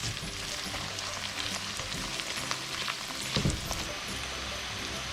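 Whole red chillies and softened onions sizzle and crackle in hot oil in a pan, a steady close frying hiss with occasional stirring scrapes and no talking.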